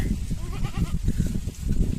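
Goats bleat repeatedly in a quick, wavering series, close by over a rumbling, noisy background.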